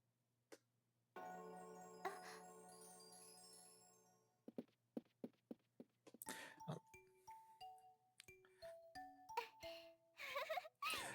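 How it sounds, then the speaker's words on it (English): A bright, tuneful train-engine chime from the golden engine in a Legend of Zelda game rings out alone, a held tonal opening followed by a quick series of plucked notes and a rising, bell-like melodic run. "that was the chime that's on the golden engine, which was the last one we had equipped"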